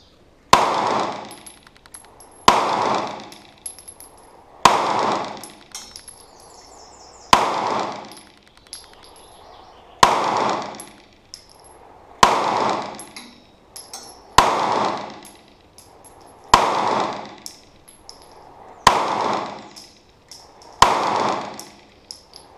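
A Smith & Wesson M&P 9mm pistol empties a magazine on a shooting range: about ten sharp, loud, close shots at a slow, even pace roughly two seconds apart, each ringing briefly before the next.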